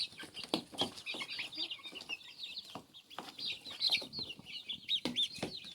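Chickens cluck softly and continuously close by while eating greens, with scattered pecking taps and small rustles between the calls.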